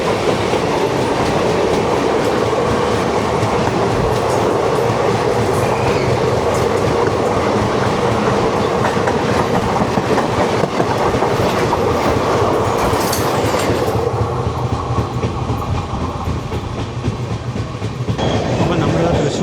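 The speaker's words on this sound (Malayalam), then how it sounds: "വിജയവാഡയുടെ 255 വരുന്നുണ്ട്." Train number 255 bound for Vijayawada rolls into a station with steady wheel clatter and rumble, loud and continuous before easing slightly near the end.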